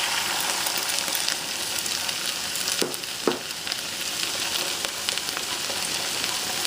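Beef and broccoli frying in a hot pan, with sauce added to the middle: a steady, close broadband sizzle runs throughout, with a couple of brief sharper crackles near the middle.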